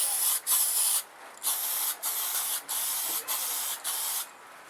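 An upside-down chrome spray paint can hisses in a series of about seven short, loud bursts separated by brief pauses, each spray a steady close-up hiss with nothing else heard.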